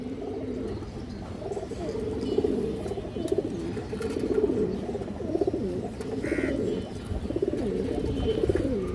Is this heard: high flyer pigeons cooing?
yes